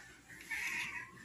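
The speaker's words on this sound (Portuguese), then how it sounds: "pisei no rabinho dele, ele já miou" A cat lets out a single short, strained meow after its tail is stepped on, faint and heard alone against a quiet background.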